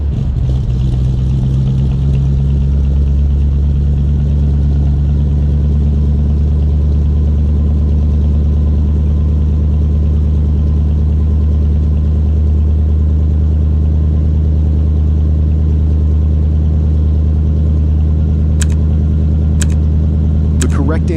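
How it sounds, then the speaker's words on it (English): A 1950 Lincoln Cosmopolitan luxury car engine idles with a deep, steady low rumble, loud and close, with a slight rise near the end. "1950 Lincoln Cosmopolitan."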